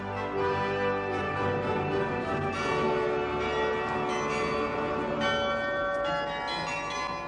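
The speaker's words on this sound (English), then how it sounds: "the kind you can still hear in the cathedral towers all over Belgium, where the carillon still plays" Carillon bells in a Belgian cathedral tower ringing a continuous melody, rich overlapping metallic tones sustaining and layering steadily throughout, full and resonant with no voices.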